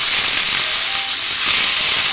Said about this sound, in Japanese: パプリカと冷凍インゲンを一つかみ入れてある。 これをばね、炒めます。